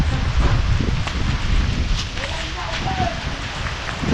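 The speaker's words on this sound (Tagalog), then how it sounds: "Ulan na baga." Heavy rain patters steadily and fairly close at a house, a dense hiss with wind rumble, as voices speak over it.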